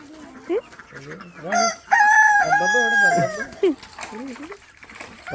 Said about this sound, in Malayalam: നമ്മളെ ഫാമിൽ ഇന്ന് കോഴിക്കളൊക്കെ ഒന്ന് പുറത്തിറങ്ങി